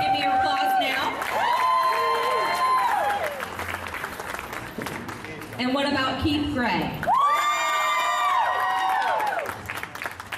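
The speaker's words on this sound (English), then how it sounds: "If you want to vote for Mike, please give me your applause now." A live crowd at a charity awareness walk in high heels cheers, whoops and applauds loudly to vote for contestants, the noise rising in swells under an announcer's amplified voice.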